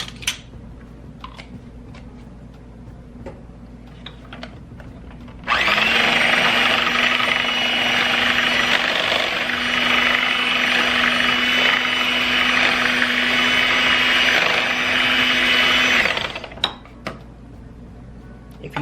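An electric mixer whirs loudly and steadily for about ten seconds while beating instant banana pudding, starting abruptly and cutting off just as sharply, with quiet kitchen noise before and after.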